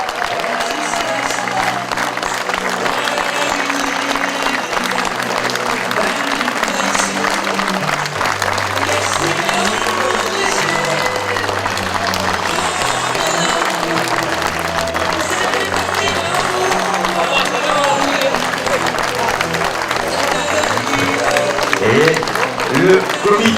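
A crowd applauds the Caveyrac amicale team at the finals of the French Jeu Provençal doubles championship: dense, steady clapping throughout, with low tonal sounds underneath.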